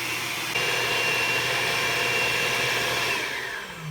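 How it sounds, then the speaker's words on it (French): A stand mixer kneading pizza dough runs with a continuous whirring motor drone, loud and close, holding steady before slowly easing off toward the end. "on va baisser le malaxeur et on va le mélanger tranquillement"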